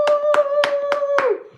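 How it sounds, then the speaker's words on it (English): Live stream hosts clap their hands five times in a quick, even rhythm, close and loud, over a faint sustained background tone. "Give my babe a round of applause."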